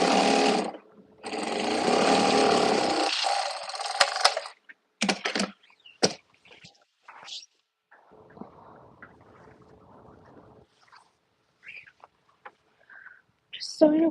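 A sewing machine stitches fabric in one loud, steady burst lasting about three seconds. It is followed by scattered clicks and handling noises and a stretch of quiet rustling.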